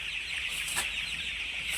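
Chickens in a dry, ash-spread shed, a soft continuous chorus of clucking and chattering from the flock, moderately close under steady background noise, with no talking.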